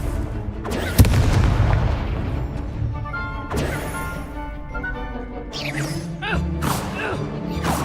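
Spell blasts from Confringo, Stupefy and Expelliarmus in the Hogwarts Legacy video game: a heavy booming impact with a rumbling tail, then further whooshing bursts and crackling hits in quick succession, loud against a continuous game score.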